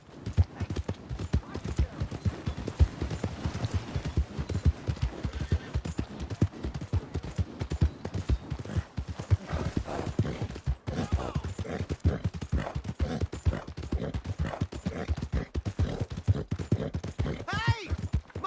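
Horse hooves clip-clop steadily and rapidly in Red Dead Redemption, a continuous galloping rhythm that runs throughout at moderate loudness, with faint voices now and then.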